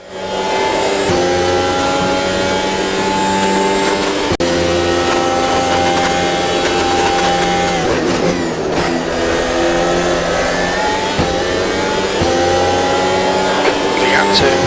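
A Williams racing car in the game Automobilista 2 howls through the final lap of a season race, its engine a loud, sustained drone that rises and falls with gear changes and throttle.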